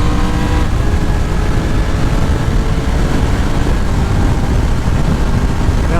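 A Triumph Tiger 1200 Rally Explorer motorcycle accelerating hard in fourth gear, its engine note rising steadily under heavy wind rush, loud and close from the rider's position, with no voices.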